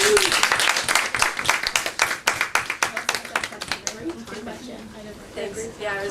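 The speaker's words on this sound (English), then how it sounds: "First of all, round of applause." An audience claps in sustained applause after a talk on ACL injuries in women's sports, a dense burst of many hands that thins out toward the end, with some talk underneath.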